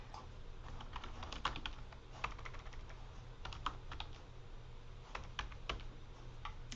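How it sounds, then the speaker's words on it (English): Fingers type on a computer keyboard in quick, uneven bursts of faint clicking keystrokes over a low room hum, with short pauses between runs and no speech. "I can't type today."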